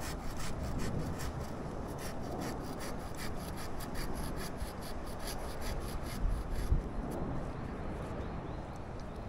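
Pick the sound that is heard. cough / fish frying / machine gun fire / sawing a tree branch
sawing a tree branch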